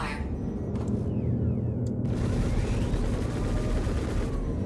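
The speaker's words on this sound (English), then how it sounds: "now let's shoot at the ship" Ship-mounted guns firing at another ship in the video game Star Citizen, a loud dense stream of rapid automatic shots over a steady roar, with brief gaps and sweeping tones between bursts.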